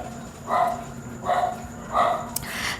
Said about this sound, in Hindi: तो वो भूख रही है, ठीक है, भौंक रही है।